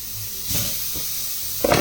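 Diced pork rib lardons sizzle in a dry pan with no oil, a steady hissing fry that swells briefly midway and crackles louder near the end.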